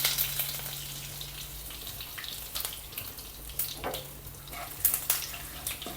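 Fennel seeds, dried red chillies and a sprig of curry leaves fry in hot oil for a snake gourd and potato thoran, giving a steady close-up sizzle with scattered sharp crackles and pops.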